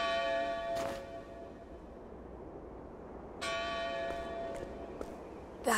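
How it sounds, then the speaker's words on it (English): The Bell of Dawn tolls in Octopath Traveler 2, a few resonant bell strikes ringing out separately and decaying slowly over a quiet ambient background. "That's the Bell of Dawn."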